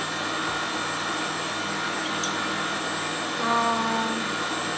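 An electric mixer whirs continuously at a steady high speed, a close, even motor drone with a slight shift in pitch toward the end.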